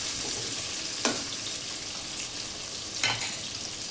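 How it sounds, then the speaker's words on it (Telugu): Onions frying in a pan until brown, a steady close sizzle throughout with two brief stirring scrapes, no voices. "బ్రౌన్ కలర్ వచ్చేదాకా వేయించుకొని"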